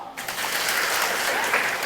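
A congregation at the third day of Simbang Gabi 2025 claps together, a steady, moderately loud round of applause that swells after a brief quiet start and carries on evenly.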